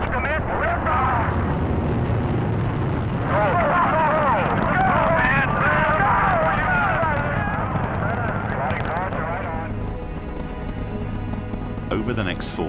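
Saturn I rocket lift-off, a broad continuous roar with crackle and rumble, sustained throughout and mixed with a voice speaking over the noise.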